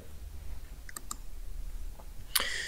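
A computer mouse in a slide-presentation program gives a few small, distinct clicks, quiet and close, spaced apart over a low steady background hum, with one sharper click near the end.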